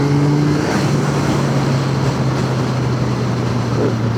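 A Yamaha MT-09 motorcycle with the Y-AMT automated transmission opens its throttle, its engine note loud and close with a steady droning hum that shifts pitch slightly as it pulls, with no talking.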